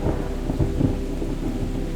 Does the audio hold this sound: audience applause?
no